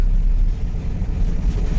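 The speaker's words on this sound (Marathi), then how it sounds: "ही कसली ट्रॅफिक" Highway traffic rumbles steadily and loudly, a low, continuous roar of vehicles heard close by during a long truck trip from Faridabad to Goa.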